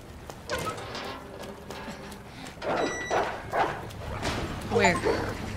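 Dogs bark and yip in the Resident Evil 2 Remake video game, sharp repeated bursts at moderate distance. A person talks over them.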